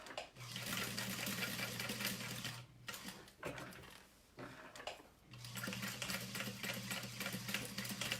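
Close, steady whir of a sewing machine stitching the corners of a vinyl saddle bag, running in long bursts with brief pauses as the work pivots and restarts; no one speaks.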